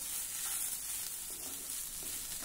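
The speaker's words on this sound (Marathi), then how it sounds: "हा नारळ आणि खसखस आपण थोडं परतून घेऊ" Grated coconut and poppy seeds sautéing in a pan, a faint, steady hiss of frying that continues without a break.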